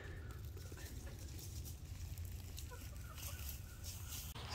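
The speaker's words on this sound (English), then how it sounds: "all the other chickens have found where Vanessa's been laying her eggs" Chickens cluck outdoors just outside a fence, faint and scattered over a steady low rumble of ambient noise.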